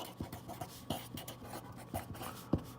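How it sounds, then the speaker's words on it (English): A pen scratches across paper in short irregular strokes with soft taps, close and quiet, with no talking. "So let's write that first."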